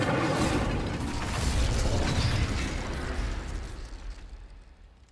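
A fire spell cast in the Hogwarts Legacy video game, a loud roaring burst that swells into a sustained rumbling whoosh and slowly fades out, with no voices.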